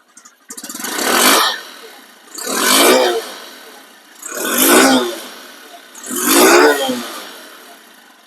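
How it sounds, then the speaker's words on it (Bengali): A second-hand Honda Livo motorcycle with CBS brakes runs with its engine revved four times in evenly spaced, loud surges that fall back to idle between them. "দেখেন রানিং অবস্থায় আছে কিন্তু বাইকটির ইঞ্জিন চালু অবস্থায় আছে"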